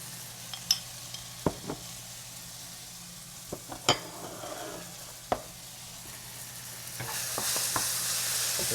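Garlic and black bean sizzle in a pan during stir-frying, a soft steady frying hiss broken by sharp clinks of a utensil against the pan, with the sizzle growing louder at the end.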